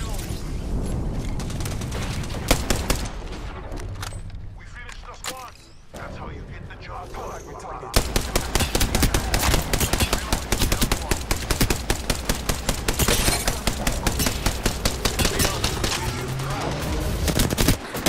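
Gunfire in Apex Legends, a few early shots, then a long loud run of rapid automatic fire with clattering mechanical sounds and booms.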